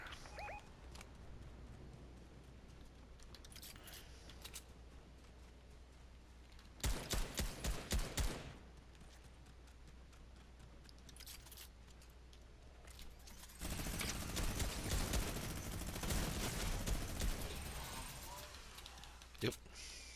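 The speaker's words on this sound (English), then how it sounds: "They're shooting. They're fighting." Gunfire crackles in Fortnite in two distinct bursts of rapid shots, one short volley and a longer sustained spray later, heard at moderate distance against a quiet background.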